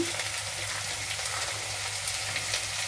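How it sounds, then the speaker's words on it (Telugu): Fried onions added to potatoes frying in a pan, giving a steady, close sizzle with a low hum underneath and no talking. "ఇప్పుడు ఇందులో వేసేద్దాం మనము ఫ్రై అయిన ఉల్లిపాయలు వేసేద్దాము"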